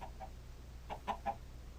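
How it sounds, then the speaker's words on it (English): Chickens in the video game Minecraft give short, soft clucks, a couple early on and then a quick run of three, faint over a low background hum with no talking. "as you can see, we found chickens"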